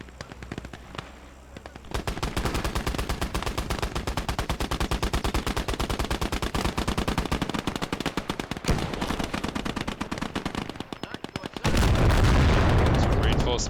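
Sustained, rapid machine-gun fire rattles close and loud in the WWII strategy game Gates of Hell, then gives way to a heavy artillery blast near the end. Brief talk is heard beforehand.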